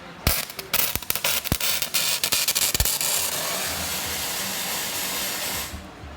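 Ready Welder arc welding on lithium jump starter batteries, giving sharp crackling pops and snaps at first, then a steady loud sizzling hiss for a few seconds before stopping abruptly.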